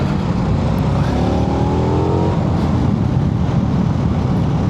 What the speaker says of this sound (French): Le moteur accélère fort.